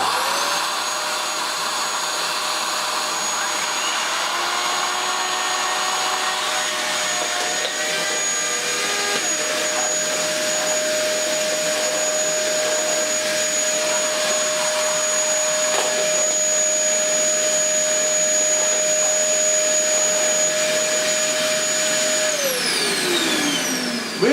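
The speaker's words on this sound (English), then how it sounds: "Let's check if the turbo brush spins." A Dyson DC11 vacuum cleaner runs loud and steady with its turbo brush spinning, a constant whining drone and airy roar that holds for over twenty seconds before the pitch drops as it winds down.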